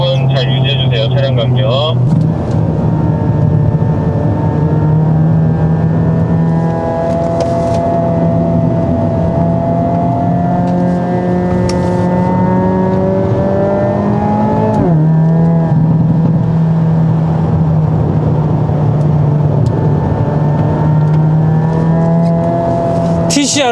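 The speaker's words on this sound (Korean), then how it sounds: "코너 탈출하시면서 악셀 쭉 밟아보시고" A Hyundai Avante N accelerating hard around the Inje racing circuit, its engine note climbing in pitch through several gears with brief dips at the shifts, loud and continuous.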